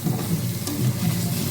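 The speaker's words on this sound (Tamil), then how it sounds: "நல்லா வதங்கி அந்த சைட்லலாம் எண்ணெய் தெளிஞ்சு வர வரைக்கும் நல்லா வதக்கிக்கங்க." Onions and masala sautéing in oil for Dindigul-style mutton biryani, a close, continuous sizzle with soft stirring scrapes, steady and alone without speech.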